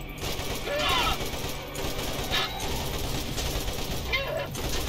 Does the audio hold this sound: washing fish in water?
no